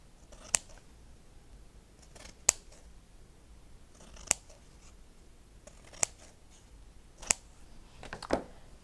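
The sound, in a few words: scissors cutting out paper triangles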